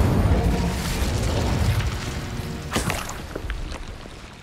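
An Incendio fire spell cast in Hogwarts Legacy, bursting as a deep whooshing boom that fades over a few seconds, with a few sharp crackling pops near the end.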